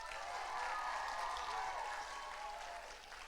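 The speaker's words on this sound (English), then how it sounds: "So one big last cheer for all of the groups." An audience at a Scottish youth poetry slam applauds and cheers, a steady wash of many clapping hands with some voices mixed in, sustained throughout and tapering slightly at the end.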